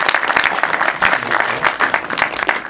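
A room full of people claps steadily for a few seconds, dense and lively applause with no voices standing out.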